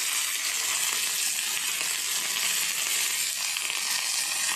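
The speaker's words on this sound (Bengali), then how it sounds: "তেল দিয়ে দিলাম, ব্রোকলি দিয়ে দিলাম। ব্রোকলিটা একটু হালকা ভেজে নেব।" Broccoli frying in hot oil in a pan for a Bengali fish curry, a steady, loud, close hiss of sizzling that holds without pause from start to finish.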